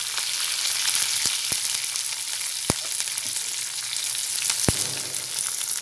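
Onions, green chillies and curry leaves frying in oil for chicken fry, a dense continuous sizzle with a few sharp pops scattered through, close and steady with no voices.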